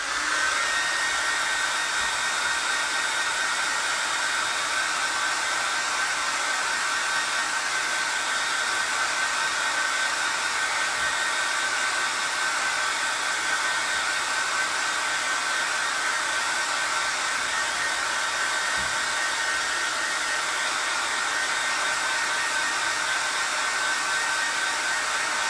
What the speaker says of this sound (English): I think I'm gonna go ahead and blow dry this really quickly.